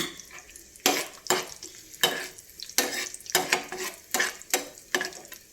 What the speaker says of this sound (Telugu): కిస్మిస్లు కూడా వేగిపోయినాయి.